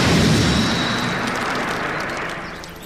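A loud explosion in a TV show bursts as a statue is destroyed, with a broad roaring blast that starts at full strength and slowly fades over a few seconds, with no talk.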